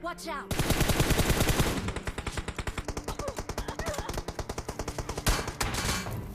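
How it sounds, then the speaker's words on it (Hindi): Rapid automatic gunfire in the video game PUBG, a long loud burst of evenly spaced close shots lasting several seconds, followed by a heavier blast. "वो बंदा है, मैं फायर करता हूँ, तभी देखो क्या हुआ।"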